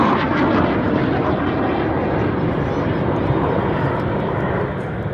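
Lancaster bomber rolling inverted at about 2,500 feet during an air show display, a loud, steady multi-engine propeller drone that holds continuously for several seconds.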